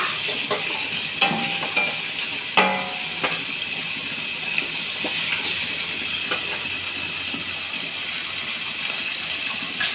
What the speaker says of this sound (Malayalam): സവാള നന്നായിട്ട് ഇളക്കി കൊടുക്കുക.